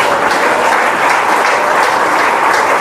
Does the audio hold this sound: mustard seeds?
no